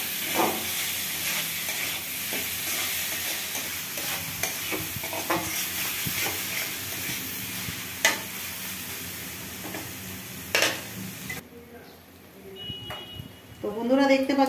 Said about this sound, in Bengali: অল্প করে ম্যাগি মশলা দিয়ে দিব, টেস্টটা যাতে আরও বেড়ে যায়। ভালো করে মিক্স করে নেব।